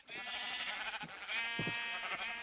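Sheep bleat from a sheep farm in the Minecraft video game: a single drawn-out, wavering bleat that fills the short moment clearly and alone.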